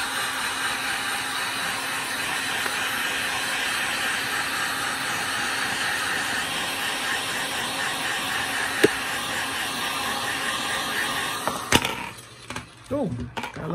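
A heat gun blows a steady, loud broadband hiss while warming vinyl wrap on an AR-15 magazine, running continuously before cutting off near the end with a few handling noises.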